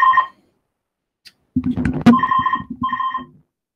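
Telephone ringing with an incoming call, an electronic ringtone repeating in short warbling bursts, clear and close, interrupted by a clunk and fumbling noise as the phone is handled.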